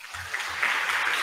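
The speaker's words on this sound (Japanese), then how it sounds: "大きな拍手でお見送りください" Audience at a school open-day new-uniform fashion show applauds as student models leave the stage, a steady wash of clapping from a large room lasting the whole moment, with a low hum underneath.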